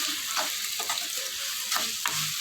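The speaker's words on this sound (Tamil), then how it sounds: "இப்போ இஞ்சி பூண்டு பேஸ்ட்டு நல்லா வதங்கிடுச்சு" Ready-made ginger garlic paste sizzles steadily in a hot pan for an egg thokku, with a few soft scraping strokes of a spoon stirring it, close and continuous.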